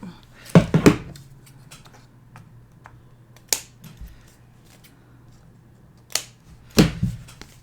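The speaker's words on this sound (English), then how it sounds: "I'll just use my scissors to trim that." Scissors snip through paper a few times, short crisp cuts in small clusters separated by quiet pauses.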